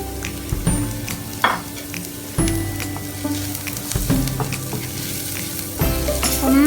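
Onions with turmeric powder frying in a pan for a drumstick thoran, stirred with loud scraping strokes over a bright, continuous sizzle, close and without talk.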